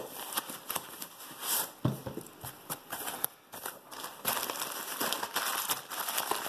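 Koolnee K1 packaging being unboxed up close: a steady run of crinkling, tearing and crackling plastic and cardboard with sharp snaps and rustles, and no talking.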